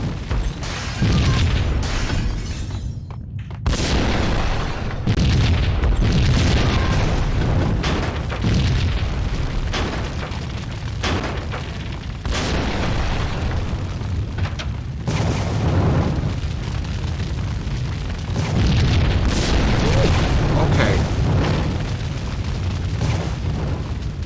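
Booming explosions and a roaring fire inside a burning restaurant in the Max Payne video game, heavy blasts recurring every few seconds over a continuous rumbling crackle, loud and close.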